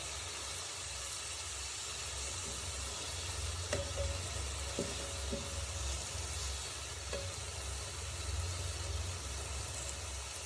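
Pork pieces frying and sizzling in a pan for pork choma, a steady loud hiss with a few faint clicks and scrapes partway through, no talking.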